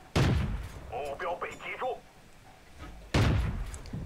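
Two heavy cannon blasts from a tier 1 tank in a tank battle video game, one near the start and one near the end, with talk in between.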